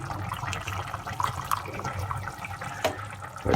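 Water is poured into a pan of rice for Egyptian rice with vermicelli, a close, uneven splashing and gurgling run with a few clinks against the pan, no talk.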